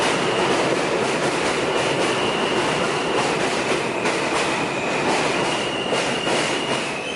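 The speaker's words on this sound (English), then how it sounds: "Alright, the train's coming now" Subway train pulling into a New York City station in Brooklyn, a loud, continuous rumble with a sustained high metallic wheel squeal running through the whole arrival and no voices.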